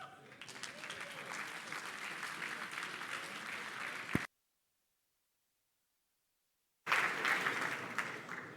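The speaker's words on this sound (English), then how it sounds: "One more round of applause, please." Audience at a Demo Day 2025 event at Frankfurt School applauds steadily for about four seconds, dense clapping at moderate level; after a gap of silence the applause resumes briefly.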